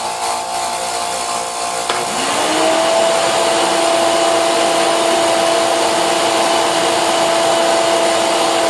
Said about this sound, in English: Time to get my vacuum cleaner running.